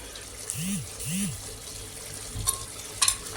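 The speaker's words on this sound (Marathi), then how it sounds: "ह्याला मी एक 5 ते 10 मिनटं परतून घेणार आहे" Chicken being sautéed in oil for chicken rassa, with a steady, close sizzle and a couple of scraping clinks of a spatula against the pan near the end.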